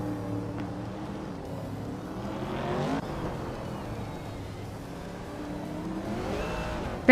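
A 1965 Lotus 40 prototype race car in a racing video game, its engine rising and falling as it revs through gears, steady and moderately loud with no voices over it.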